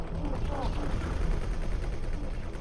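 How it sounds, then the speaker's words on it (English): Spaceship weapons fire in X4: Cradle of Humanity, a dense, steady rattle of rapid shots layered over a low rumble, loud and continuous. "Now most of my weapons are firing instead of just 4."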